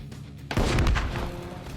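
A demolition charge detonates in the video game Bellum, a single heavy, close boom that bursts out of a low rumble and rolls on in a sustained roar.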